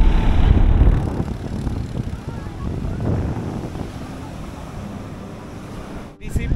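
Sea waves and steady wind at Puri beach, a broad continuous roar with heavy gusty rumble on the microphone, loud and close, easing slightly toward the end.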